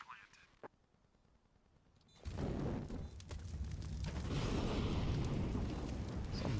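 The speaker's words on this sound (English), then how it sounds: "Some molly in from the CT side" A molotov lands and burns in CS:GO during a professional LPL Pro ANZ 2022 match, with a sudden loud whooshing burst of flame that stays as a steady roaring crackle, heard over commentator talk.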